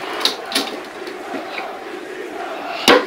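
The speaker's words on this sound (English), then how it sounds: "The crowd is going crazy." A wrestling arena crowd at an ECW extreme rules ladder match roars and cheers in a sustained wash of voices, with a few louder shouts and a sharp bang near the end.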